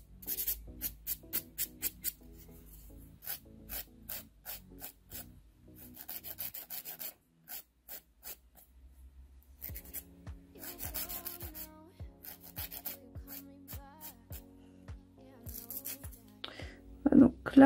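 A file rasps delicately across a fingernail in short repeated strokes, quiet and rhythmic, pausing briefly midway before resuming.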